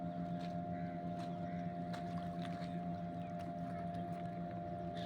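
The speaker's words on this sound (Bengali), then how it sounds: "তোমরা নিশ্চয়ই দেখতে পাচ্ছ স্পিড বোট যাচ্ছে এখান দিয়ে" A speedboat passes at a distance on the Maithon Dam reservoir, its steady engine drone humming faintly and evenly with light wind, and no clear speech.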